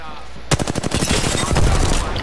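Rapid bursts of automatic gunfire in the video game Apex Legends, a sudden loud volley of closely spaced shots that keeps going with a crackling rhythm to the end.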